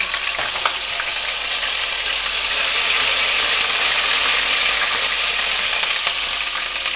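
Fenugreek seeds frying in hot oil for an egg curry, a loud, continuous sizzle that stays dense and steady throughout, with no speech over it.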